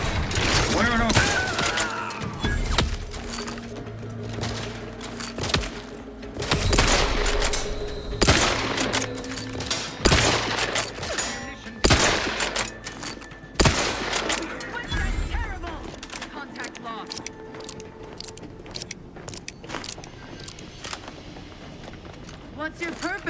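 Gunfire rattles through a firefight in The Outer Worlds 2, loud sharp bursts and single shots clustered irregularly, with sci-fi weapon tones and voices shouting between volleys.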